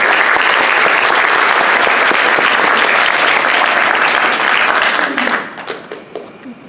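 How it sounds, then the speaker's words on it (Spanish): Loud, dense applause from a conference audience welcoming an engineer to the stage, sustained for about five seconds before thinning into scattered claps and fading. "Lo recibimos con un fuerte aplauso."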